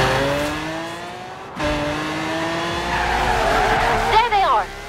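Lamborghini Centenario in Forza Horizon 3 on a Byron Bay route, its engine note rising and shifting through gears, then a loud tire screech as it skids near the end.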